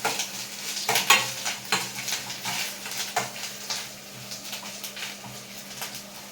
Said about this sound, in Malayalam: അപ്പോൾ തേങ്ങ വറക്കണം, വറുത്ത് ഒരുമാതിരി ചുമക്കണം.